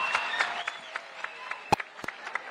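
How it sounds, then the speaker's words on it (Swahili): Crowd at a Kenya Kwanza campaign rally in Limuru, Kiambu, clapping in scattered, uneven bursts. A few sharp, close claps stand out over thinner applause further off. "Makofi."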